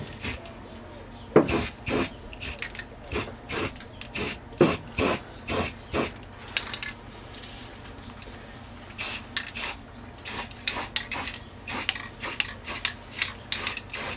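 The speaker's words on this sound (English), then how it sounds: "Now I'll put a little paint on there to seal those." Short repeated hisses of a spray paint can sealing bolt holes in the bed of a 2021 Ford F150 PowerBoost, close bursts coming in quick rhythmic groups with brief pauses.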